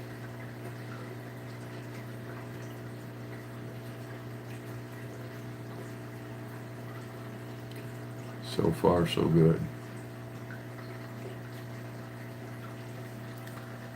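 A water pump hums steadily through an aquarium water change, a constant low drone with a brief splashing burst midway as a person speaks briefly.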